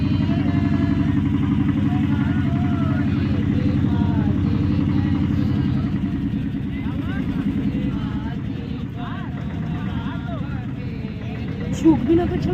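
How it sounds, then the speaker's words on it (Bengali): A crowded motorboat on the Ganges pulls away from Chowki Ghat in Varanasi, its engine holding a steady low drone throughout while people talk over it. "বেনারসের চকি ঘাট থেকে নৌকায় বসেছি, এই নৌকা আমাদের ছেড়ে দিয়েছে"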